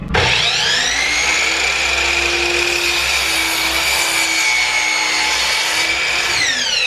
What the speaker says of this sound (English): We're now going to cut the 4 pieces to make that folding surface.